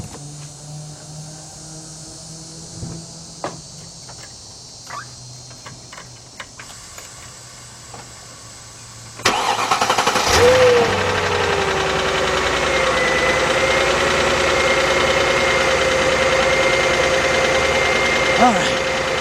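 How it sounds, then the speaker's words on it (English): A 2006 Mercedes-Benz CLS 500 with a 5.0 engine cranks and starts about halfway through, then settles into a steady close idle; before that, a quiet shop with scattered clicks and knocks, and a voice speaks briefly. "So now I'm going to start the vehicle up, and we're going to hope that this thing picks this up."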